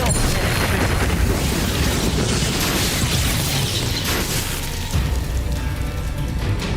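Expulso explosion spell cast during a duel in Hogwarts Legacy: a dense, loud burst of blasting and crackling debris that rumbles on continuously for several seconds without letting up.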